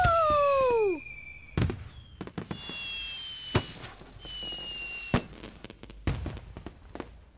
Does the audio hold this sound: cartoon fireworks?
yes